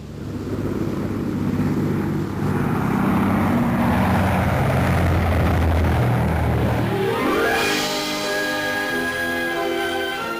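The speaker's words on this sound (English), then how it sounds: "the 100-passenger Bristol Brabazon, specially designed to fly direct from London to New York, non-stop to the New World." The 100-passenger Bristol Brabazon propeller airliner, built for non-stop London to New York flights, flies past with a loud, sustained engine roar that swells, then drones past with a clearly shifting pitch.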